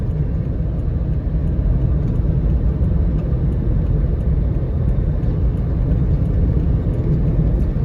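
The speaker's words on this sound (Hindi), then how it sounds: "गाड़ी टर्न हो गई है।" A car drives along a road just after turning toward Sangla Hill, its engine and tyre rumble a steady, close, continuous drone with no talk over it.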